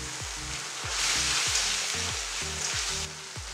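Degi mirch chili powder hits hot oil for Multani chole, setting off a loud, steady sizzle and frying crackle. It swells partway through and runs continuously with rhythmic stirring scrapes underneath, and no voices.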